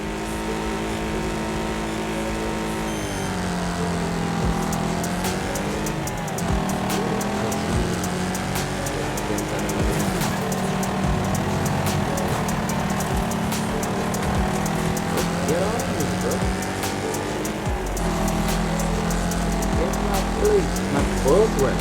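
In a racing video game on a fire-rock track, several race car engines drone and rev continuously, rising and falling in pitch as the cars accelerate, with some tire squeal.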